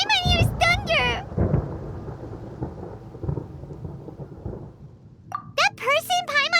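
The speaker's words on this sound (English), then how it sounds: "Paimon hears thunder!" Thunder rolls in a Genshin Impact game scene, a deep rumbling crash with rain, framed by a character's high voice speaking before and after.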